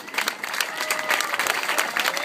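An audience applauds swim team graduates, the 18-year-old swimmers, with dense, steady clapping throughout and faint crowd noise mixed in.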